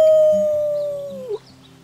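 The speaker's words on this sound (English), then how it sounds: "Let's start with our team howl." A single drawn-out, wavering howl voiced by characters in Life is Strange 2 as a team howl, sliding gradually downward and ending in a short yelp, over faint background game music.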